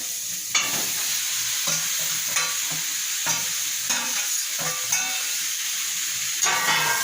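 Young goat meat and pre-fried potatoes are stir-fried in an oily spice masala: a loud, continuous sizzle with repeated rhythmic spatula scrapes and knocks against the pan.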